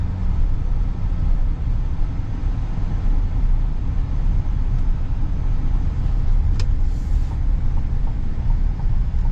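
A 2026 GMC Sierra 3500 SLT diesel pickup heard from inside the cab while driving, a steady low rumble with road noise at an even level, and one brief high tick partway through.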